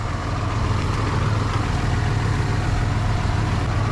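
A large tractor with a machine hitched to its front idles steadily in a bean field, a loud continuous low engine rumble with no voices.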